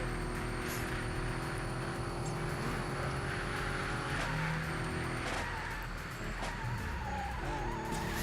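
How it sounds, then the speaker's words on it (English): Racing car engines drone steadily in Super Street: The Game, a street racing video game, with a loud continuous roar, shifting tones and occasional scraping crashes throughout, no talk. "The sound of the engines, I have to say, is quite nice."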